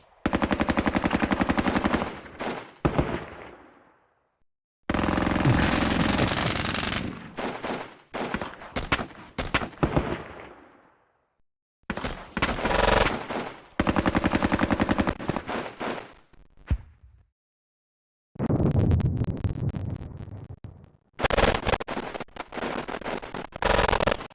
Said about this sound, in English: Medium machine gun all the way, yeah.